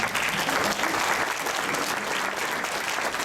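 An audience breaks into sustained, dense applause, a steady wash of many hands clapping that holds at full strength throughout, with a voice faintly underneath.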